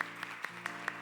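Church congregation applauding during a Sunday worship service to send off departing members, a steady moderate patter of many hands with a few sharper claps standing out at regular intervals.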